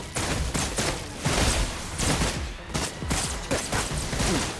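Rapid gunfire bursts from the video game Wuthering Waves, loud and close, with repeated sharp shots in clusters and brief gaps between volleys.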